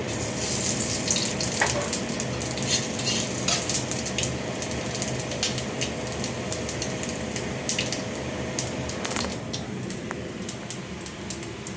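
Panch phoron spices crackle and fry in hot oil for a Bengali fish curry, a steady close hiss with scattered sharp pops running throughout, no voices.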